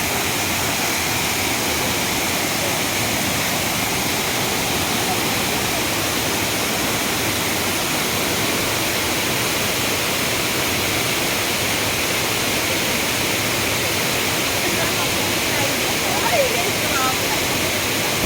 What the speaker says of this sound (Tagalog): Welcome, Encanto Falls.